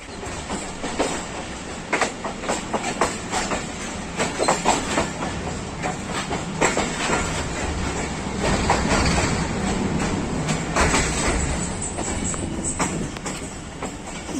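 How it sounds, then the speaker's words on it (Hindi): Allama Iqbal Express passenger train running on rails after leaving Shahdara Bagh Junction toward Lahore, Pakistan: a steady, loud rolling rumble with rhythmic clickety-clack wheel beats throughout, with no talking. "अल्लामा इकबाल एक्सप्रेस 2 मिनट स्टॉप के बाद शादराबाग जंक्शन से लाहौर की जान रवाना"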